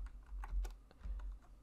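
Quiet computer keyboard typing, a run of light, irregular key clicks heard close and alone, with no talking.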